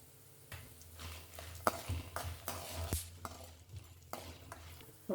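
Dry red chillies, mustard seeds and cumin crackle in hot oil in a kitchen pan, with a low steady sizzle broken by irregular pops and stirring scrapes, close and fairly quiet.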